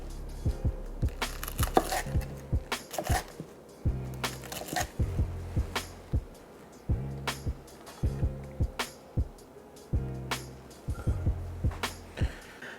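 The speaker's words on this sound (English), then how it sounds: "we're just gonna slice it up. You guys can hear how crispy it is." Crispy fried chicken being sliced with a knife, a series of sharp crunching cracks in short rhythmic bursts, close and loud with no talking.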